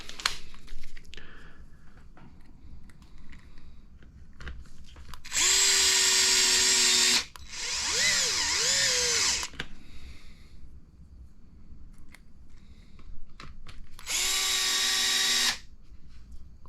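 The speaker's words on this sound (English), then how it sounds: "let's break out the driver here" A power driver whirs in three bursts while an HB Racing D2 Evo 2WD RC buggy front end is assembled, each steady high-pitched run lasting about two seconds, with quiet handling noises between them and no talk.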